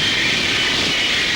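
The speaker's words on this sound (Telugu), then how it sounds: "బాబాయ్, ఆ ఫ్లైట్ ని హైజాక్ చేద్దామా?" Airplane roaring overhead, a loud steady broadband engine rush filling the whole moment with no break and no voices.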